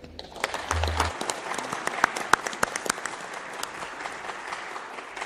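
Applause rises at a solemn session in Brazil's Chamber of Deputies honoring ANFIP's 73rd anniversary. Claps are scattered and moderately loud, with a few sharp individual claps standing out and the clapping thinning toward the end.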